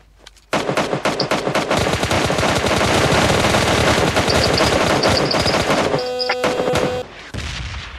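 Sustained loud automatic gunfire in a battle royale video game, rapid continuous bursts after a brief quiet start, with a short break near the end before firing resumes.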